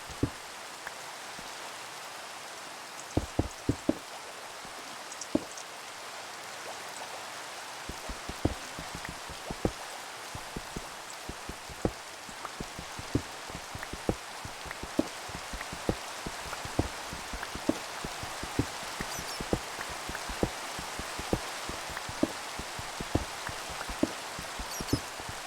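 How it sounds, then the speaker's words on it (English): Steady rain falls in the Minecraft video game, a soft continuous hiss dotted with many sharp individual drop taps pattering at an uneven pace, fairly quiet and with no talking. "do you guys think that rain is more annoying or soothing in Minecraft?"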